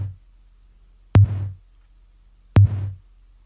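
Two compressed, slightly distorted snare drum hits with a 100 Hz tone and a short nonlinear reverb tail, spaced about 1.4 seconds apart, punchy and close.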